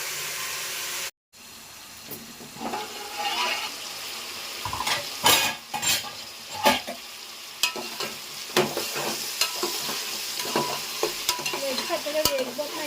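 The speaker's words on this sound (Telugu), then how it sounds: "చక్కగా వేగిపోతున్నాయండి." Mutton fat fries in a pan with a steady close sizzle, interrupted by repeated scraping and clinking of a utensil stirring against the metal.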